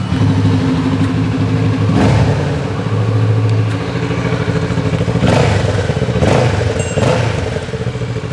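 Kawasaki motorcycle in lime green, its engine idling and revving with a steady mid-range drone that rises and swells several times, loud and close, no voices.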